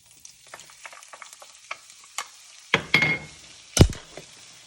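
Shallots hit a stainless steel skillet of hot butter and oil, giving a sudden loud sizzle that bursts and fades, followed by a second sharp burst, with faint scrapes and taps before.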